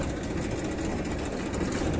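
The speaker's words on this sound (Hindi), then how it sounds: "बकरियों के नाश्ता ले जाने के लिए ट्रैक्टर ले जा रहे हैं।" A tractor engine idles in a steady low rumble, continuous and fairly close, with no talking.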